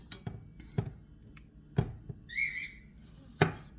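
Knife chopping half a green bell pepper on a cutting board for a turkey casserole, with irregular sharp chops close by and a brief squeaky whistle-like sound in between.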